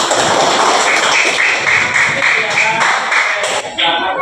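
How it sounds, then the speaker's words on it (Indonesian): A primary school class clapping hands together during a lesson on Asmaul Husna: loud, fairly rhythmic group claps throughout, with children's voices mixed in. "kasih tepuk tangan"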